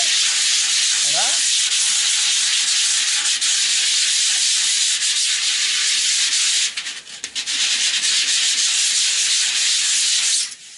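Steady hand sanding of body filler on the trunk of a Citroën Traction 11B, a continuous close abrasive rubbing that runs without pause, with a brief shift in stroke near the end.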